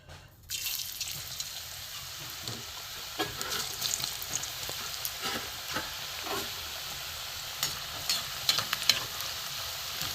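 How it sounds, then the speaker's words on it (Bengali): Potato slices fried a few at a time in hot oil for crisp Bengali aloo bhaja give a steady, close crackling sizzle, with brief spatters and stirring scrapes throughout and no talk. "এবার তেল আমার গরম হয়ে গেছে বন্ধুরা আলুগুলো আমি অল্প অল্প করে দিয়ে ভেজে নেবো"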